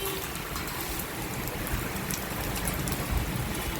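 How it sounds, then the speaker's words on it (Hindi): Heavy rain pours steadily onto potted plants, a continuous close, dense hiss of drops and splashing with no pauses. "सब में पानी भर गया। ये कैसी बारिश है।"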